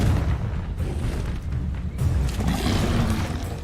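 In a wizarding video game, a Confringo explosion spell bursts with a deep boom, then a second blast follows about halfway through, each leaving a rumbling tail.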